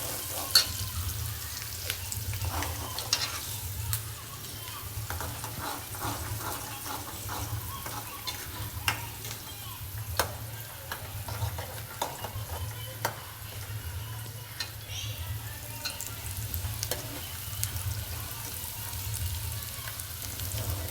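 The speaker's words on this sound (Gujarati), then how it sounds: "ડુંગળી ચડી જાય 2 મિનિટ સાંકળવાની" Onions fry in a pan in a Gujarati village kitchen, with a steady close sizzle and frequent scraping stirs and clicks of a spoon against the pan, with no talking.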